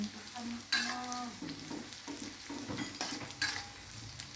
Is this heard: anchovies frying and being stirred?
yes